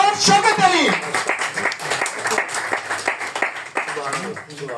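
Audience applause welcoming Imran Shaukat Ali at a Punjabi conference at Punjab House, Lahore, a steady wash of clapping running throughout under an announcer's voice.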